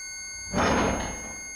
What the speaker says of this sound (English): You hear the loud clunk of the door.